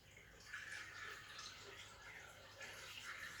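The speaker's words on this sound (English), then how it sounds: "So now we're going to add our water." Water pours steadily into a blender jar for a carrot juice recipe, a continuous splashing trickle at close range that holds for the whole stretch without pause.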